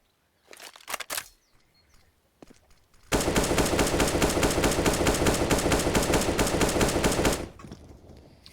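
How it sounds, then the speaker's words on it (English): Rapid, evenly spaced AK rifle shots in Counter-Strike ring out in a loud, metronome-like burst lasting about four seconds, preceded by a few scattered single shots and quieter sounds. "Counter-Strike AK tapping to chill/study/sleep"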